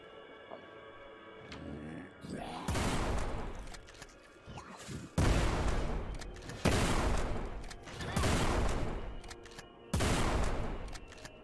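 Shotgun blasts in the video game Forgive Me Father: about five loud, heavy booming shots with rumbling tails, spaced roughly two seconds apart, close and dominant with no talk.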